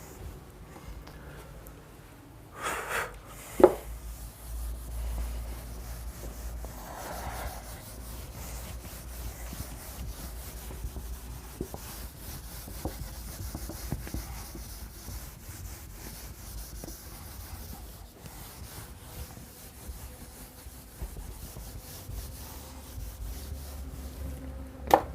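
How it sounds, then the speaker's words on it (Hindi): An object is rubbed by hand in a physics classroom, giving a quiet, continuous scraping friction with a few louder knocks scattered through it. "तो इस चीज़ को रब कर लेते हैं।"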